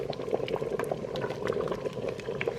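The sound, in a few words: pinto beans simmering in an Instant Pot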